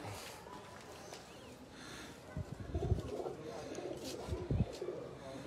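Large-tailed fancy pigeons kept by a breeder coo softly in the background, with low murmuring coos rising near the end amid general room noise and faint human talk.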